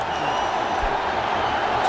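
A packed stadium crowd roars steadily at a cricket match after a wicket falls, a dense sustained wash of cheering heard at a distance without a break.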